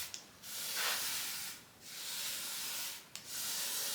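Wax is rubbed by hand onto the rusty cast table of an Atlas 10 inch table saw, a soft, hissing friction in long back-and-forth strokes with brief pauses, close and quiet.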